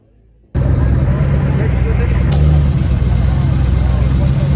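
Car engine idling at the Festival of Motoring, starting abruptly and holding a steady, loud rumble with a brief sharp blip partway through, no talking.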